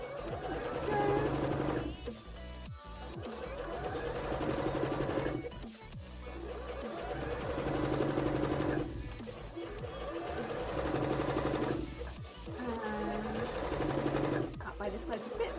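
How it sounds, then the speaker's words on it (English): A sewing machine stitches around the bottom of a cup on a custom mannequin, running in several long motor bursts separated by short pauses, close and steady, with a voice talking over it. "gonna just sew around the bottom of the cup now"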